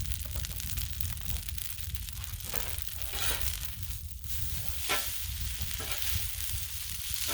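Avocado oil sizzles on a Blackstone griddle at a steady crackling frying hiss, fairly quiet and continuous, with a few brief scraping or stirring bursts and no talking.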